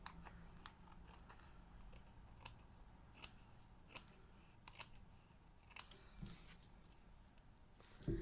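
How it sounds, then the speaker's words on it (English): Scissors trimming small pieces of card for a papercraft shutter fold card, with quiet, crisp snips repeating at a steady rhythm close by in a quiet room. "I'm just going to trim those pieces from the reverse."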